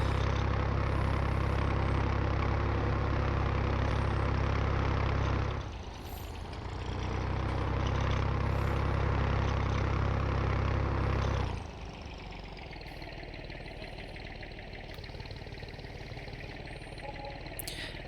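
Farming Simulator 19 tractor engine idling at a petrol station beside a field, a steady low rumble throughout that dips briefly and drops to a quieter hum near the end, with no talk.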